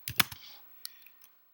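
A few quick keystrokes on a computer keyboard, close and quiet, with a short burst of clicks followed by scattered single taps.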